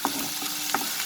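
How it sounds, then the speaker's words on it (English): Paneer paratha filling with coriander leaves sautéing in a pan over a medium flame, a steady soft sizzle broken by a few brief stirring scrapes across about a second. "Let's saute it for a minute over medium flame."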